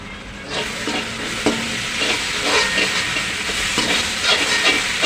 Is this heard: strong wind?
no